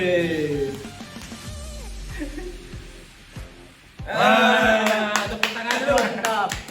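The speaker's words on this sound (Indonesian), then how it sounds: "Tepuk tangan dulu" Several people break into lively hand clapping after a dice luck game, a steady burst of claps that continues alongside talking and exclamations.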